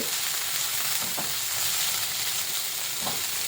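Kothu dosa mixture with curry leaves being stirred and tossed in a hot pan, a steady close sizzle with frying crackle and a few soft scrapes of the spatula, no voices.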